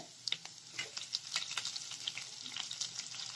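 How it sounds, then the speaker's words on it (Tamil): Cumin, chana dal and chopped curry leaves fry in hot oil for tempering, sizzling and crackling with small spattering pops, fairly quiet and close, with no voices. "எல்லாம் சேர்த்து ஃப்ரை பண்ணிக்கலாம்."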